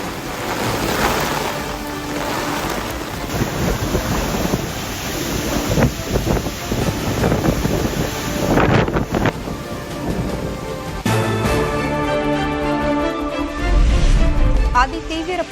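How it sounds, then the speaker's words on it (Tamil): Typhoon wind gusting at 185 km/h with heavy waves on the coast of Luzon island, Philippines: loud, continuous roaring wind buffeting the microphone over crashing surf, rising and falling in bursts, with a deep rumble near the end. "லூசன் தீவில் மணிக்கு 185 கிலோமீட்டர் வேகத்தில் வீசிய காற்று"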